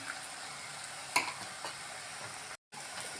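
Spice paste sizzling in a pan with fried onion and tomato, a steady broadband crackle throughout with a couple of brief stirring clinks and a momentary dropout near the end.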